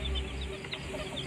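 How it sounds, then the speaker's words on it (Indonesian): Young Elba chicks cheep in short, high peeps over a constant low background hum, with a few soft clucks close by. "Ini anak ayam Elba yang saya tetaskan"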